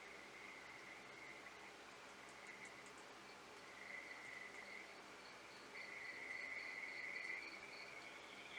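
Insects buzz and chirp in a film soundtrack, a steady high shrill with brief trilling bursts layered over a low continuous drone, fairly faint and without any voices.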